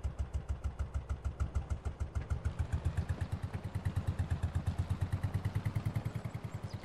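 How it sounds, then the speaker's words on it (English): A tractor engine in Farming Simulator 22 idles just above 800 RPM in a steady, rapid chugging rhythm, close and fairly loud, with a slight rattle running through it. "Sounds like it's idling right above 800 RPMs."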